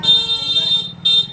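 A vehicle horn honks twice: one long blast, a brief gap, then a shorter toot, loud and close amid background rumble.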